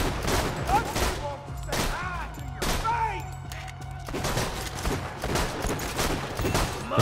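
Gunshots ring out in Borderlands 2, a series of loud sharp cracks spaced irregularly across the scene, with chirping bird-like game sounds and a voice speaking among them.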